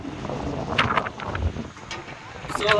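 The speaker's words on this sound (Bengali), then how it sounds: "প্রচুর বাতাস, তীব্র বৃষ্টি হচ্ছে" Strong wind buffets the microphone in a steady roar, with rain and water noise during flooding on a road swamped by hill runoff, gusts swelling and easing throughout.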